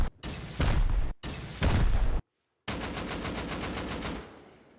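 Heavy blasts and rapid fire during a raid on a base in the video game Rust, long booming bursts broken by a short silence, then a fast rhythmic string of shots that fades out.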